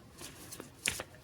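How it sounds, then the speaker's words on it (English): A tarot deck with zodiac artwork is shuffled briefly by hand, giving a few soft riffling bursts close by in a quiet room. "So I'm going to shuffle,"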